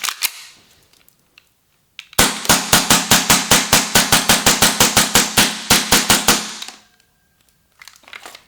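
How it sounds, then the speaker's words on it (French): A Tokyo Marui V10 Ultra Compact 1911 airsoft pistol empties its full magazine in rapid fire, about two dozen sharp, loud snapping shots in a fast, even rhythm, close by, with faint handling noise before and after. "J'ai tiré assez vite, j'ai vidé le chargeur en entier sans problème"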